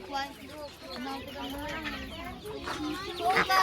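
Chickens, including white hens, cluck and squawk continuously at a busy poultry market, close and lively, with people talking in the background among the birds.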